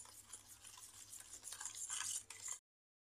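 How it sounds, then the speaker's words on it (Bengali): Palm fruit cake batter mixed in a bowl, soft close scraping and swishing strokes at low volume, growing a little busier before stopping abruptly into silence. "এটা ভালো করে এখন আমি মিশিয়ে নেব।"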